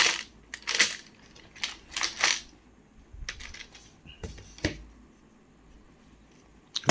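2006 Indian one rupee coins are handled close up, clinking and jingling in short metallic bursts as they are shuffled and sorted, with quiet pauses between handfuls.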